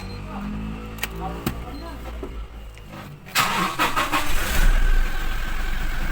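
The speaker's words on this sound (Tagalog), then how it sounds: "paandar natin mga kahimas. Siyempre, tapakan natin ang brake, gasolina" A 2018 Toyota Innova cranks with a few clicks and whirs, then its engine catches and settles into a steady idle up close, while someone speaks nearby before the start.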